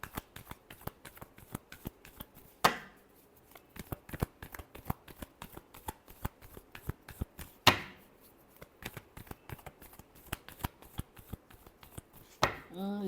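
Tarot cards being shuffled by hand in rapid crisp flicks and riffles, close and soft, with a louder bridge-style cascade roughly every five seconds and no talking over it.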